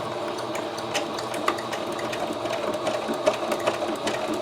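Sewing machine stitching a pouch for a wheelchair or walker about an inch below the hardware, a steady close mechanical hum with small clicks and knocks throughout.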